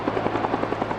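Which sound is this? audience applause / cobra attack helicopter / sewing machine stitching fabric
cobra attack helicopter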